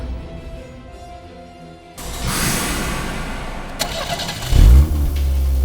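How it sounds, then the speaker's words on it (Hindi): A car engine cranks and catches after a quiet stretch, then settles into a running idle with a loud rev partway through, close and prominent, with no talk. "इंजन की आवाज"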